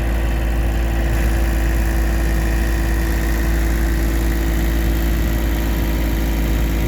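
A Bristol crawler tractor engine runs steadily at a ploughing day, a close, even, low-pitched idle-like drone that holds unchanged throughout.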